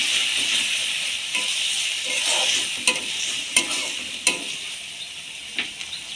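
Cumin powder and ginger paste are mixed into a sizzling pan of fish curry with aubergine, potato and drumsticks, giving a loud, continuous frying hiss with several sharp scrapes and clinks of a spoon stirring close by.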